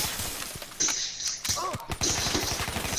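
In a video game, a gun fires in rapid bursts of sharp, evenly spaced shots. The shots run through most of the stretch, with a short pause and a crashing impact in the middle, and a voice can be heard faintly.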